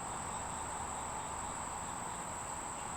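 Crickets chirp outdoors in a steady, high, continuous drone, faint and even throughout, with no voices.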